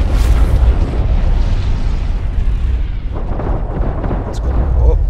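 Ship weapons in the space game Star Citizen Alpha 2.1 fire continuously, a loud rumbling barrage of booming blasts layered with roaring engine noise, while someone talks over it.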